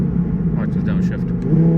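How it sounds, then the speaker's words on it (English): A twin-turbo Audi R8 V10 drops a gear with a loud, close engine rumble that rises in pitch toward the end, while a person talks over it. "Watch this downshift."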